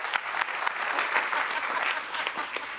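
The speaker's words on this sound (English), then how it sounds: "Let's give them a round of applause." Audience applause at a talk on outdoor access, a steady dense wash of many hands clapping close and fairly loud, sustained evenly without a break.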